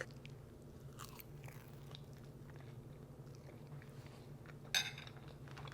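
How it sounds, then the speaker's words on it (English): Knife and fork cutting into a crispy phyllo vegetarian pie with feta filling, cooked in an air fryer, giving faint crackly crunches and a sharp clink of cutlery near the end over quiet room hiss. "And when we cut into it, it should be really crispy still."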